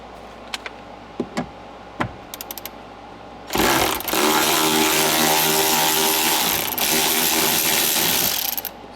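Bolts being removed from the carpet of a Monte Carlo, a few sharp metallic clicks and taps followed by a loud, sustained whine of an impact or power tool that runs for several seconds.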